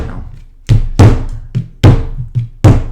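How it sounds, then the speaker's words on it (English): Lump of clay struck by hand into a square shape, giving six dull, heavy thuds in an uneven rhythm, close and fairly loud with nothing else over them. "so you're going to hit this into a square."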